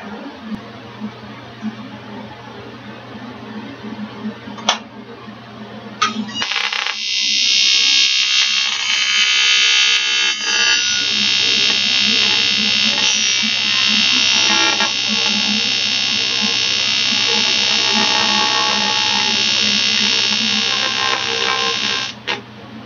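A TIG welder tacks a 1-inch-thick aluminium outside corner joint under argon shielding, giving a steady loud buzzing hum that runs continuously for about sixteen seconds after a few brief clicks, with no talking.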